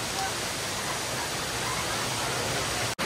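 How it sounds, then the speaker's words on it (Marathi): A waterfall on the trail to Machi Prabalgad roars steadily and loudly as broad, constant rushing water, cutting off abruptly at the very end. "इथे एक धबधबा इथं धबधबा आहे"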